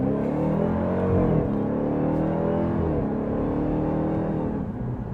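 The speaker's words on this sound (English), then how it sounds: "There's a supercharger whine that's kind of unique to the Hellcat. There's an amazing exhaust note behind." A 2026 Dodge Durango SRT Hellcat Jailbreak's supercharged V8 revs and pulls hard, a rising and falling engine drone with supercharger whine and deep exhaust note, steady and loud, easing off near the end.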